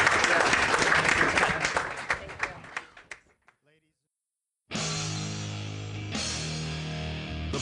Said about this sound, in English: Please join me in a round of applause for Michael and Henry and Robin and